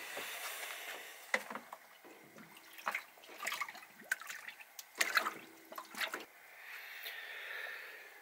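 Water and malt stirred for beer brewing in a Dutch oven, with soft sloshing, drips and squishy stirring strokes in irregular bursts, close and fairly quiet.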